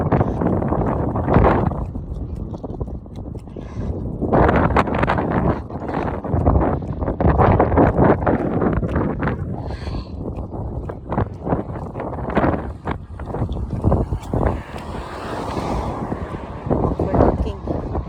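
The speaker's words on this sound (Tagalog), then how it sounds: "Buti na lang medyo mahangin. Nakakatulong ang hangin." Steady wind buffeting and rushing across an outdoor microphone near the windmills in Bodrum, Turkey, continuous and fairly loud, with a person's voice intermittently over it.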